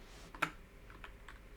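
Keyboard typing in gloves: a single distinct key clack stands out, followed by a few softer, muffled taps in a quiet room, with no one speaking.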